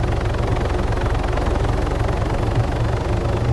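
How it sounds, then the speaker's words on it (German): Steady low rotor thrum of an armed helicopter in a video game with a droning engine, continuous and fairly loud throughout. "der Heli ist bewaffnet."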